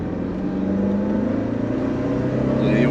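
Lancia Delta Integrale rally car engine pulling steadily under acceleration, a smooth, continuous drone with a low hum that builds slightly toward the end, heard up close without talk.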